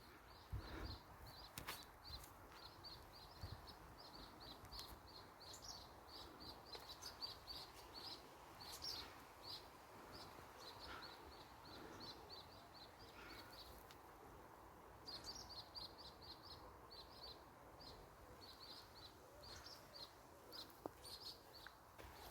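Sparrows chirp in rapid, faint bursts outdoors in a garden as a sparrowhawk chases them, the calls repeating over a quiet, muggy ambient background.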